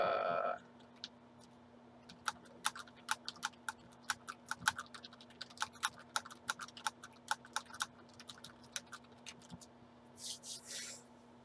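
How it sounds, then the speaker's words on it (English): Fingers type on a computer keyboard in a quiet room with a steady low hum, a run of crisp, close key clicks at an uneven pace, preceded by a brief noisy burst and followed by a short scrape. "I'm just gonna go ahead and type it."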